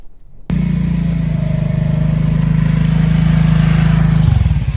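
A motorcycle engine starts suddenly after a brief quiet moment and holds a loud, steady low drone close by, with a slight rise in intensity before it shifts and trails off at the end.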